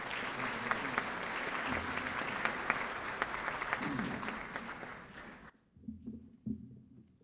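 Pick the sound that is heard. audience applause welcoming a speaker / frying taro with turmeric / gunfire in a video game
audience applause welcoming a speaker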